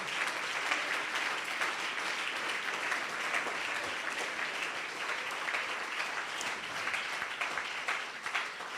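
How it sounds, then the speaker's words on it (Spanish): A church congregation claps in praise during a sermon, a continuous, fairly soft wash of applause heard from a distance with no voices over it. "Dele ese aplauso al Señor"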